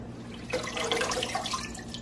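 A vegetable and its stem are dipped and swished in a bowl of clean water, making a close burst of sloshing and splashing that starts midway and trails into light drips.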